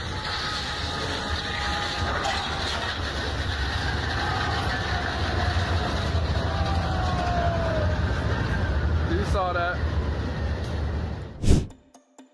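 A train rumbles steadily along the tracks in Tangipahoa Parish, Louisiana, its horn sounding as it approaches, then slams into a Dollar General truck stopped on the crossing with one loud, abrupt crash, followed by near silence.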